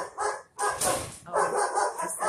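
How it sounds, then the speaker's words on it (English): A neighbor's dog barks in a rapid run of loud, close yaps and bow-wows, with brief pauses between bursts. "it's the neighbor dog."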